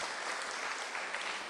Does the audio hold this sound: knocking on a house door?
no